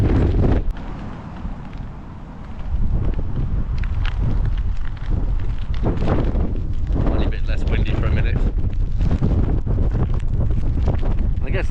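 Strong wind buffets the microphone on Wolstonbury Hill in loud, continuous rumbling gusts, with occasional rustles and brief faint sounds underneath.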